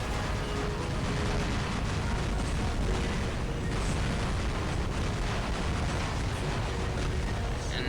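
Heavy robot weapons fire nonstop in the War Robots mech combat game, a dense wall of booming explosions and rapid gunfire bursts that stays loud and steady throughout.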